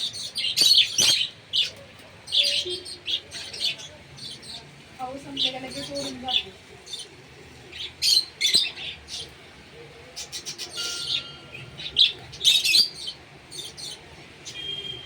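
Many birds chirp and tweet in quick bursts throughout, fairly close, with a person speaking briefly in the background.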